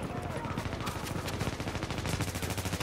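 Burst gunfire in the Dark Zone of The Division video game: rapid, loud, tightly spaced shots that repeat steadily throughout.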